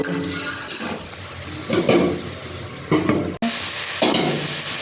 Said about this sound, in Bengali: এর মধ্যে দিয়ে দিলাম স্বাদ মতো একটু চিনি ভালো করে নেড়ে করে